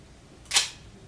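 An SLR camera shutter fired with a long cable release gives one sharp, close mechanical snap against a quiet background.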